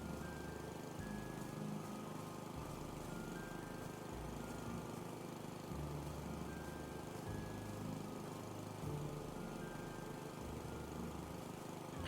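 Lawn mower engine in the video game House Flipper 2, a steady low motor drone running continuously and fairly loud with small shifts in pitch, no voices over it.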